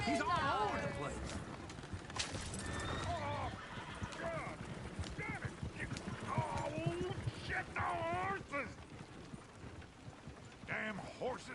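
In Red Dead Redemption 2, hooves clop and pound rapidly while horses neigh and whinny, with a busy, layered mix of voices and effects throughout.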